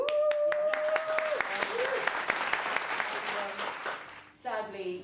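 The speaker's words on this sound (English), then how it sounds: "you were nominated for an award. Round of applause." Audience applause during an evening variety show, sharp individual claps at first that swell into fuller clapping, with a voice speaking over the start and talk resuming as the applause fades.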